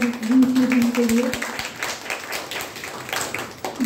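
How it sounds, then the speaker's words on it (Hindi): An audience claps at a DXN program in Bhagwanpur, a scattered run of sharp hand claps that rises and thins over about four seconds, with a voice talking over them at the start. "एक प्लीज जोरदार ताली"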